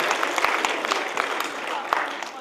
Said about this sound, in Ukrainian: Я хочу аплодисментами отметить эту, эту реакцию